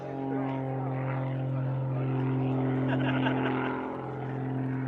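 Classic propeller aircraft performing aerobatics at the Shuttleworth Collection airshow, a steady droning engine hum with strong low tones swelling and easing slightly as it passes, with faint talk underneath.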